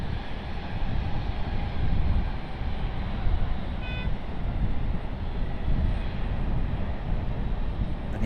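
An Air Canada jet on its takeoff roll at Raleigh-Durham airport, a steady broad engine roar holding at a loud, even level throughout without fading.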